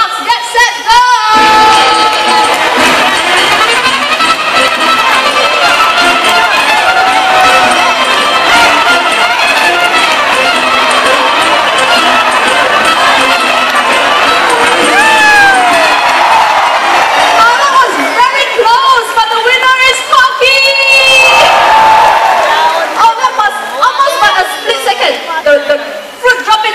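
Spectators at a bird show at Jurong Bird Park cheer on racing parrots: steady, loud crowd chatter and shouting with children's voices, swelling and dipping across the race, with a presenter's voice and bird calls mixed in.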